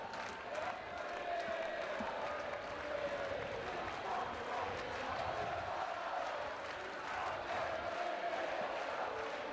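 Crowd in the stands at an evening beach volleyball match, Italy versus Austria at the CEV BeachVolley Nations Cup, a steady, faint wash of cheering, chatter and applause with music and no clear individual voices.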